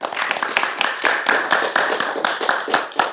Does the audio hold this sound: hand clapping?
yes